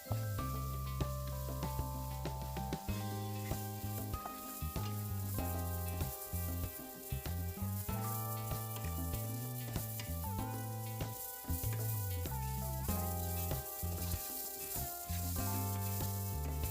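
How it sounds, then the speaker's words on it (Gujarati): Carrots roast and sizzle in a pan over high flame for quinoa upma, a steady frying hiss with occasional stirring, heard under continuous background music. "ગાજરને તમે જેટલી હાઈ ફ્લેમ ઉપર શેકશો તેટલું જલ્દી શેકાઈ જશે"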